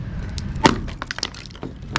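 A sharp crack of something brittle breaking, followed by a scatter of smaller snapping and clattering fragments over about two seconds.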